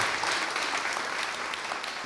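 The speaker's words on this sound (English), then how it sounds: "please give him a round of applause for what he shared so far" Audience applause following a talk by Atlanta Fed President Raphael Bostic, a dense, steady wash of many hands clapping at a moderate level throughout, with no voices standing out.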